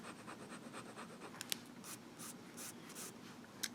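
A Visconti Mirage fountain pen nib scratches softly across paper in short, quiet strokes, close and faint, with no voices.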